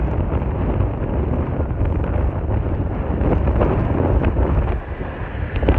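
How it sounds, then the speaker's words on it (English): Strong wind buffets the microphone in a continuous, loud roar while riding an Evolve Bamboo GTR electric skateboard through a park along the Bognor Regis beach front, steady throughout with slight surges. "it's so windy"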